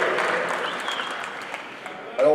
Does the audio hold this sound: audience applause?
yes